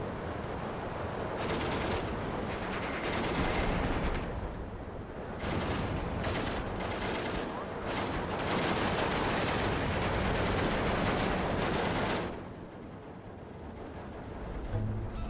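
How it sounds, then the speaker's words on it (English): Machine gun fire in the wartime strategy game Steel Division 2 rattles on steadily in dense, overlapping bursts over a rumbling battlefield, easing off near the end. "oh, the machine guns"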